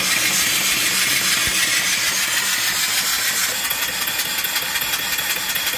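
A mill steam engine turning at about 200 RPM drives a belt-run alternator spinning well over 1,000 RPM, giving a steady, loud, continuous mechanical hum and hiss with faint rhythmic beats throughout, close by and with no talk.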